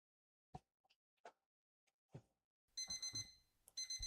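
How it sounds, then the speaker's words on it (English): Several soft, scattered clicks and taps, then an alarm clock bursts into a loud repeating electronic ring that breaks off briefly and starts again. "The alarm sounded."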